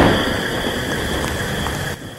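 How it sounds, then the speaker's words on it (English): Steady heavy rain hisses loudly and evenly throughout, a dense close wash of noise with no voices. "It's raining."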